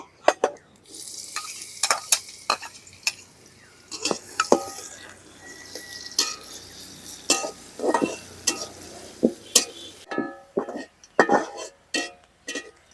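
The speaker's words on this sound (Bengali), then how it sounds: "পেঁয়াজটা লাল লাল করে বাজা নিছি" Chopped onion fries in hot oil with cardamom, cinnamon and bay leaf for a village-style quail curry, a steady sizzle broken by frequent sharp scrapes and clinks of a spoon stirring the pan, close and moderately loud.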